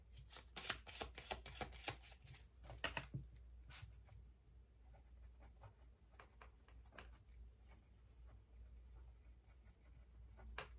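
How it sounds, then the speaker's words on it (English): Pen or pencil writing by hand on paper, close and quiet, with steady scratchy strokes and brief pauses, no talk over it. "I'm writing down this stuff so that I don't forget later."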